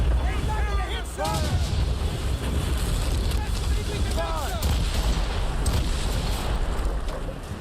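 Cannons firing from a sailing warship in a naval battle in Assassin's Creed Rogue, booming heavily over constant roaring wind and sea noise. Voices shout at close range throughout.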